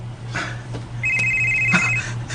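Mobile phone ringing nearby, a loud electronic tone held for about a second over a low steady hum, with a few soft knocks around it.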